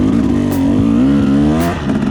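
A KTM 390 Duke single-cylinder street motorcycle revs nearby, its engine note rising and falling steadily in a loud, continuous drone for about two seconds, with no talking.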